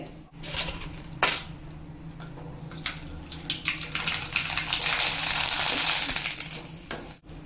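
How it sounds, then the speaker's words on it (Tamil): Tomato vathal drops into hot oil and fries with a steady bubbling hiss that builds louder toward the middle, punctuated by a few sharp clinks of utensils. "எண்ணெய் சூடாயிடுச்சு ஒன்று ஒன்றா போட்டு பொரிச்சு பார்ப்போம்"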